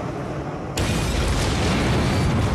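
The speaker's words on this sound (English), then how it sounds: "Velasco's three bombs rip through Coventry's port side" Three bombs burst through the port side of the Royal Navy destroyer Coventry during the Falklands War, a sudden loud blast that swells into a sustained, roaring broadband rumble.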